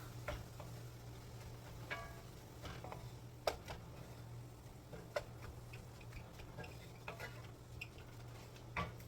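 Mushrooms and meat for enchiladas are stirred in a frying pan, giving faint, scattered scrapes and taps over a steady low hum and quiet sizzle.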